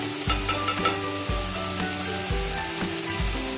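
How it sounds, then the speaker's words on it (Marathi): Ginger garlic paste sizzles steadily in hot oil as a spoon stirs it, producing a continuous close frying hiss with periodic scraping thuds against the pan. "आता हे आलं लसूणची पेस्ट आपण तेलात परतून घेतली आहे"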